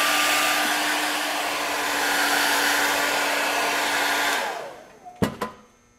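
A hair dryer blows a steady, loud rushing whir as it dries stretch-and-stipple witch makeup on a face, then switches off around the four-second mark, followed by a few sharp clicks and knocks.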